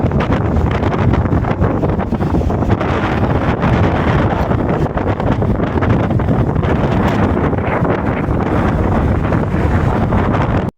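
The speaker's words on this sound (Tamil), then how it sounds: "காற்று ஓவராக அடிக்குது" Loud gusting wind at Kaveripakkam Lake roars against the microphone throughout, a steady rumbling rush that cuts off abruptly at the end.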